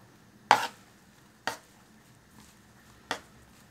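Grape vine leaves being chopped for sarma give three crisp knife strikes on a cutting board, spaced about a second apart, close and clear against a quiet kitchen.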